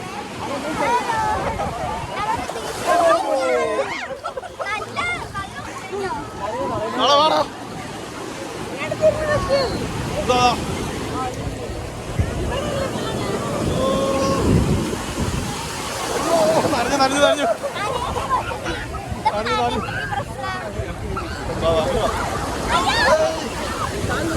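Surf at Chavakkad beach churns and washes in steadily, with rushing water swelling and easing over a long stretch, and excited voices chattering throughout.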